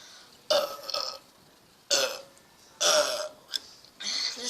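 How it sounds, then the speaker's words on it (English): Loud, close burps from a person, four separate bursts with short quiet gaps between them, each a rough, drawn-out belch. "I've never heard myself burp that before."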